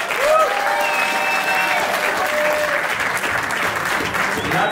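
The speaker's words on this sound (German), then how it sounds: "Ein riesen Applaus für Moose." A rap contest audience applauds steadily and loudly throughout, a dense wash of clapping with a few tonal whistles or voices near the start.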